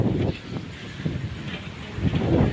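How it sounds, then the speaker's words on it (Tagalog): Strong wind gusts across an outdoor rural garden with chili and tomato plants, rumbling and buffeting the microphone in uneven surges that swell louder toward the end, with no talking. "Ang lakas ng hangin."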